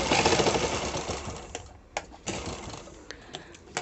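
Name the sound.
sewing machine stitching princess cut blouse cups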